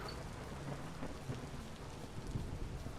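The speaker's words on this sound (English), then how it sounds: "Holy thunderstorm." A Vintage Story thunderstorm with steady rain hissing throughout and dull thunder rumbling underneath, continuous and fairly close, with no voices.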